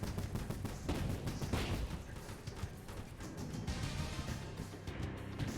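Minigun tower in a tower defense game firing a sustained, dense rattle of rapid shots that runs steadily throughout at a fairly even loudness, with no talking.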